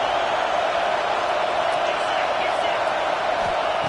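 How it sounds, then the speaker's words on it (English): Roaring crowd noise fills a football stadium at a Tennessee versus Georgia game, a steady, dense wash of cheering that holds loud and unbroken throughout. "It's early, but this crowd is fired up. Listen to this noise here."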